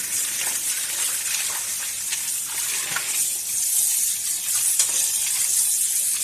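Tap water gushes steadily over sunflower seeds being rinsed in a sink, a continuous close hiss and splash with small shifting spatters throughout.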